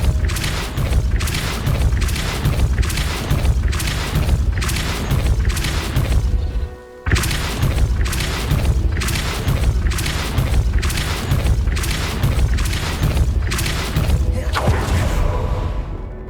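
Depulso spell blasts cast repeatedly in Hogwarts Legacy: a long run of heavy, booming impacts in a fast, even rhythm, loud and close. After one short gap the booms resume, with no voices over them.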